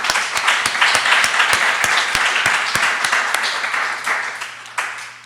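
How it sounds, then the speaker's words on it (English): An audience applauds at a poetry talk, many hands clapping loudly and close with sharp individual claps standing out, easing off toward the end; no one speaks over it. "Can we just give her a round of applause again?"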